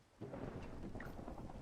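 Thunder from lightning in the Minecraft video game, a sudden low rumble that rolls on steadily for over a second, with no talk.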